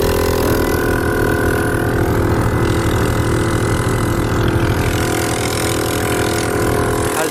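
A compressor switched on in a car, likely the air-conditioning compressor, running as a steady engine-like drone with a constant, even hum throughout and no voices.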